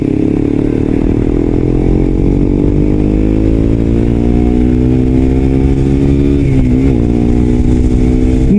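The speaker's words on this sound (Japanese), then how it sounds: "GSX-R125 に乗っていくと" A Suzuki GSX-R125 motorcycle being ridden, its small engine droning loud and close with rising harmonic pitch as it accelerates through the gears, plus a brief dip around a shift near the end, with steady wind and road noise beneath.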